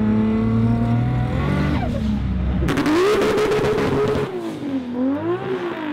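A 1995 Toyota Supra's six-cylinder engine idles with a steady low rumble, then revs hard and pulls away loudly, its pitch climbing and dipping through gear changes amid a burst of harsh broadband roar and possible tire noise.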